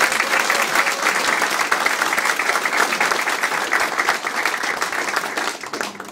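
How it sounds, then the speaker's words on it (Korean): A crowd at the opening ceremony of an election campaign office gives dense, sustained applause that stays loud and fairly even, then thins slightly toward the end. "이분들에게 박수 한번 좀 부탁드립니다."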